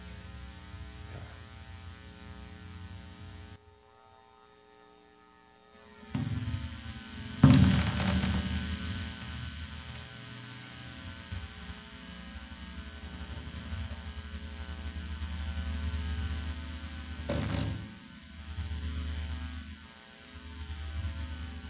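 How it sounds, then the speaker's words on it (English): Electrical hum from lights phasing on and off, a steady low drone with static that swells, drops out briefly and returns in uneven surges over about twenty seconds, with no talking. "you can hear the lights kind of phasing on and off too"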